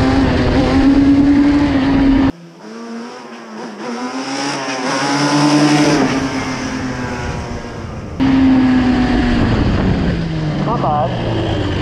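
A Yamaha Banshee ATV engine runs hard in third gear, loud and close, with strong buzzing two-stroke tones that rise and fall through revs and briefly drop off mid-run.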